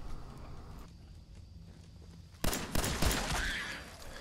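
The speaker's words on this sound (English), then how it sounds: "Mole rats attack from the darkness." Mole rats bursting out of the ground in the Fallout 4 video game, a sudden loud burst of scraping, thudding impacts after a quiet, low ambient stretch.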